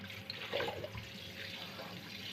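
Tap water runs steadily into a sink while kitchen utensils are washed after making a chocolate KitKat drink, a continuous splashing flow with a brief louder surge, close and alone.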